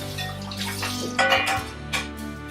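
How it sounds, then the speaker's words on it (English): A dish rinsed out under a running kitchen tap, with a steady close rush of water and a couple of brief splashy surges as the dish moves through the stream, heard alone without talk. "just kind of wash it out, no big deal. Rinse it out."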